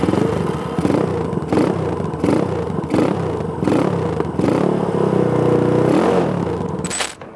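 A Scorpio motorcycle engine in a bobber cafe build runs steadily up close, its loud rumble pulsing with a few revs before cutting off near the end.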